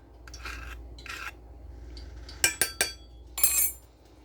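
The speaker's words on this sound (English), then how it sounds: "Now I'm going to mix all that in as well." Baking soda and baking powder are stirred into homemade chicken nugget batter, with soft rasping strokes followed by several sharp clinks and scrapes of a utensil against the bowl.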